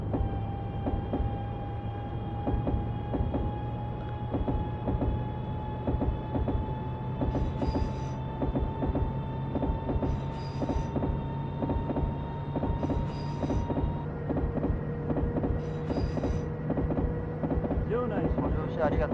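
Electric Series 223 rapid train pulling out of Motomachi on the Tokaido Line in Densha de GO! 2, a steady rolling hum with rising motor whine and repeated rail joint clicks, loud and continuous throughout.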